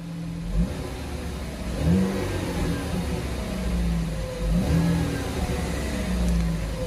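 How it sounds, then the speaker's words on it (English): A truck engine gets a few light revs, each rising and falling in a brief surge over a steady idle, heard close with no talking. "We could probably give it a little rev, nothing crazy, but just a little rev."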